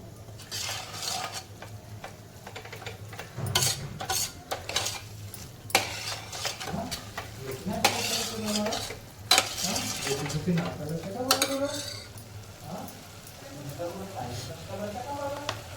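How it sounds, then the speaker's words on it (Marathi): Moth beans stir-fried in a pan over a high flame, with repeated clinks and scrapes of a spoon against the cookware over a low frying sizzle, and someone talking throughout. "मटकी टाकते तर आता मोठ्या गॅसवरती एकदा परतवून घ्यायची व्यवस्थित"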